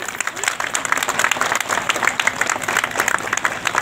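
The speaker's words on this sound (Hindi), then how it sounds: "तो उनके लिए ताली बजा दीजिए जोर से।" A large audience at a community gathering claps loudly and continuously, a dense, steady wash of many hands with voices mixed in.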